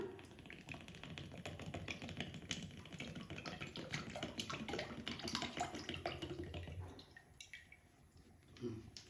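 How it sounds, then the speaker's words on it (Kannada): Oil for Maddur vada pours into a frying pan as a faint, steady trickle and splash that tapers off near the end, with low background noise. "ಬಾಣಲಿಗೆ ಎಣ್ಣೆ ಹಾಕ್ಕೊಳ್ಳೋಣ"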